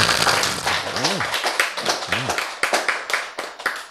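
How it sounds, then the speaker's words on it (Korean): An audience claps during a church Bible lecture, a burst of quick, sharp hand claps mixed with a voice. The claps grow more distinct toward the end of the moment. "박수!"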